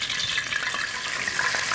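Cornmeal-dredged oysters fry in hot oil, a close, steady crackling sizzle with no talking.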